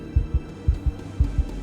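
Deep, muffled heartbeat thumps in steady lub-dub pairs, three pairs in quick succession over a low hum, used as a sound effect.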